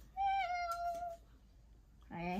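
A cat meows clearly and close by, with one drawn-out meow followed by the start of a second after a short pause.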